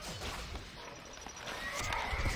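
Horses neigh and whinny in the Stronghold Crusader strategy game, a few sharp calls near the end over a steady bed of game ambience, with occasional clip-clop.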